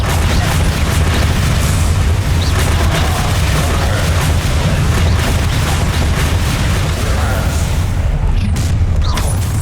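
Bombarda explosion spell going off in the video game Hogwarts Legacy, a dense, loud rumbling blast with heavy low-end boom that stays thick and continuous amid ongoing combat noise.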